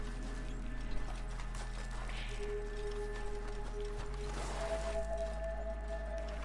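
Horse hooves clip-clopping in a video game, a steady rhythmic trot running through the whole stretch along with mechanical clicking, close and fairly loud, with no talk over it.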